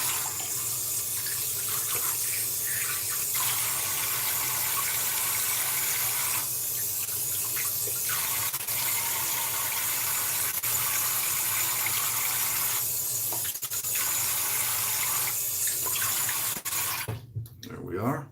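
Tap water runs steadily into a bathroom sink during rinsing after a wet shave, a continuous close gush lasting throughout with brief interruptions near the end.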